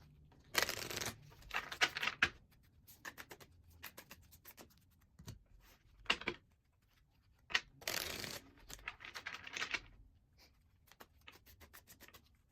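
Tarot cards being shuffled by hand, with repeated bursts of riffling and rubbing card noise coming in uneven waves and short pauses between, close and fairly quiet with no talking.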